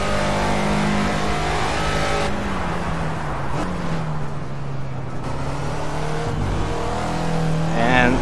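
A Caterham Super Seven race car engine in Project CARS at Donington, steady high-revving drone that drops and climbs through gear changes, with a brief burst of revs near the end.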